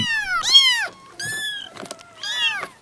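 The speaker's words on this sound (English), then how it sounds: "he's playing cat sounds" A recording of cat sounds plays: three drawn-out meows, each rising then falling, separated by short pauses with a faint click between, fairly loud and close.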